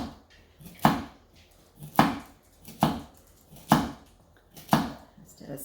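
Vegetables with the skins left on are chopped on a board for a home-cooked vegan meal: five sharp knife strikes land about a second apart, close and distinct, with no talking.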